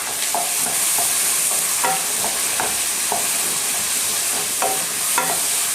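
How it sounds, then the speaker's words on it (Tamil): Onions and tomatoes sauté in sesame oil for a brinjal gravy, giving a continuous close sizzle. Rhythmic scrapes of a spoon stirring the pan recur throughout, with no voices. "வெங்காயம் தக்காளி ரெண்டையும் நல்லா வதக்கிடலாம்"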